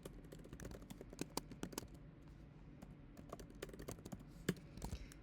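Rapid, irregular keystrokes on a computer keyboard as CSS code is typed, close and clear, with soft clicks in bursts and brief pauses and no one speaking.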